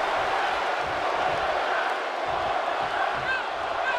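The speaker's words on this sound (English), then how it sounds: "The crowd calling for one more time." Wrestling event crowd roaring and cheering continuously at a steady loud level, a dense wash of voices filling the arena for the whole stretch, with a few sharper shouts rising near the end.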